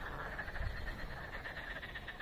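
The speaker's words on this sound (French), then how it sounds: "c'est pas des canards, c'est les grenouilles, c'est les crapauds" Toads croaking outdoors during a walk, a dense chorus of rapid, overlapping croaks at moderate distance, continuous and unbroken.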